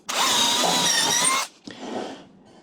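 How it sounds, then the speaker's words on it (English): A power drill bores a pilot hole in two short bursts, a loud, close, high whine for about a second and a half, then a quieter, briefer spin. "I'm gonna drill my first pilot hole."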